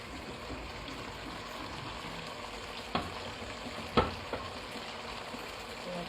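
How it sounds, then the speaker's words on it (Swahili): Goat meat fries with spices in a pot for pilau, giving a steady close sizzle with a couple of sharp clinks from stirring. "Naona nyama yetu vile inashika viungo vizuri."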